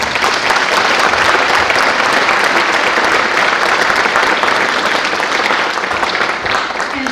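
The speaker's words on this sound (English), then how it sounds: "Can we just give these kids a round of applause?" Loud, sustained audience applause for middle school band students at a spring concert, dense clapping filling the room throughout with slight fading near the end.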